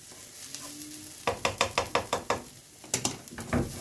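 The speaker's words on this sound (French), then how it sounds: "Je vais peut-être rajouter un petit peu d'huile là pour pas trop que ça colle. Voilà. Je mélange, mélange, mélange." Onions being stirred in a frying pan with a little added oil, giving a run of about seven evenly spaced scraping strokes with a soft sizzle beneath, then a few more irregular stirs near the end.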